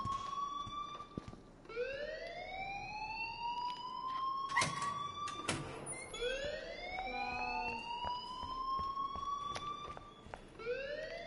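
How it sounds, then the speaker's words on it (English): A fire alarm in the game Life Is Strange sounds as a loud, repeating siren that rises in pitch over and over, steady and close, with short clanks and thuds breaking in now and then. "please turn off that alarm since that's your job"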